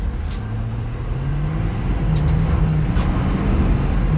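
A Ford F250 Tremor diesel pickup with a 10-speed 10R140 transmission accelerates hard, its engine drone loud and close, climbing in pitch through the gears with the roar swelling as speed builds.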